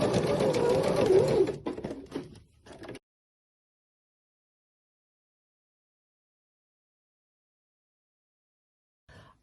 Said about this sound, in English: using a straight stitch, just sew